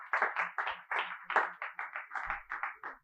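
Rhythmic clapping from a church congregation during a Spanish-language sermon on baptism and the Holy Spirit: quick, steady claps in an even beat for about three seconds, with a brief hint of voice near the end.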